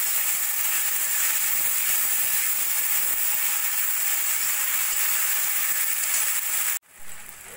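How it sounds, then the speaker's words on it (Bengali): Spices with ginger-garlic paste fry in a pan with a loud, steady sizzle and hiss that cuts off abruptly near the end, then returns more faintly. "এবার ভালো করে মশলাটা কষিয়ে নেব।"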